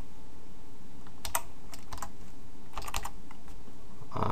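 Computer keyboard keys typed in short irregular bursts while entering code for a movie select project, close and clear with no talking.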